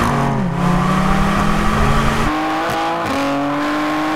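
Tuned BMW (Manhart-tuned XM Label Red or M4 CSL) accelerating hard in a second-gear roll race from 50 km/h, a loud close engine note climbing steadily in pitch, then a quick upshift and a fresh rising pull.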